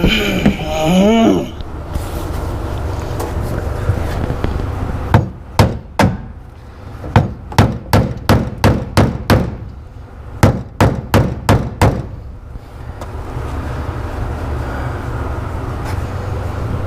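A hammer strikes metal repeatedly while a headliner is installed in a 1957 Cadillac, sharp ringing clangs in irregular bursts over a steady background drone, close and loud.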